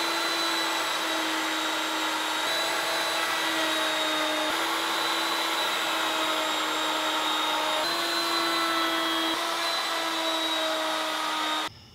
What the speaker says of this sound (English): With a core box bit at the router table, I'm going to take several passes